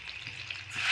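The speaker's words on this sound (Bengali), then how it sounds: "তো প্রথমে আমরা তেলটা ভেজে নিচ্ছি।" Fish fat from a catla head drops into hot oil and fries, a brief close crackling sizzle that rises in intensity toward the end, with no talk.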